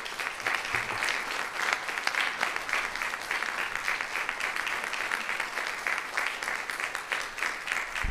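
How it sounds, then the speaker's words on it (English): Sustained audience applause filling a hall at a children's neuroblastoma cancer foundation event, dense steady clapping from a large crowd throughout. "can you guys just stop clapping for a second?"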